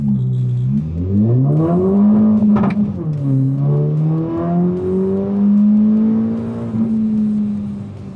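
A car with a 034 Stage 2 tune launches hard on an acceleration run, its engine note climbing steeply, dipping briefly at a shift, then pulling strongly again. It is close and loud, with no talking.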